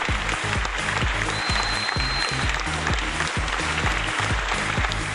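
A studio audience at a Big Brother-style elimination show applauds steadily and loudly, the clapping running throughout over a rhythmic beat.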